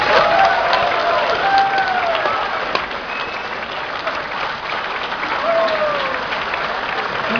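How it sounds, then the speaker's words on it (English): Audience applause at a convention opening ceremony, a dense, sustained wash of clapping from a large crowd with a few cheers and voices rising over it, holding at the same level throughout. "please give yourselves a round of applause"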